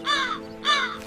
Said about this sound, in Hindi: गंदे कौवे!